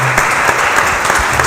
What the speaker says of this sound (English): So just gives you another round of applause.